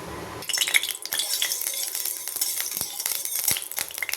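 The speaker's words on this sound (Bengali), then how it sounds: "কড়া গরম হয়ে গেছে, এবার আমি একটু সরষের তেল দিলাম" Mustard oil crackles and hisses in a hot kadai, a bright close sizzle broken by sharp metallic clinks and light stirring taps.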